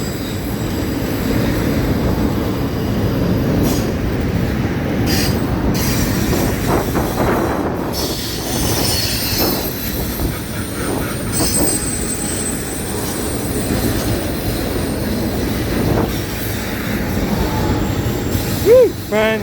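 An FEC freight train crossing a bridge in St. Augustine, Florida, a loud continuous rumble of rolling cars with rhythmic wheel clatter and occasional high squeals from the wheels near the end.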